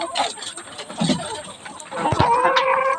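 Chickens kept in a bamboo cage cluck and squabble noisily after feeding, overlapping squawks and agitated calls close by, with someone talking over them.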